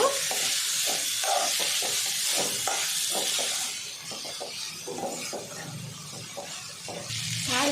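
Cooked rice is stirred together with masala and salt in a hot pan, giving a steady scraping, sizzling rustle with rhythmic spatula strokes, close and continuous with no talking.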